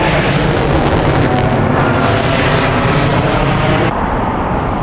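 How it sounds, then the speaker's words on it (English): Airliner departing London Heathrow, a loud, close roaring jet engine rush that stays strong throughout as the plane passes overhead. "Oh look, we've got a plane I was looking for"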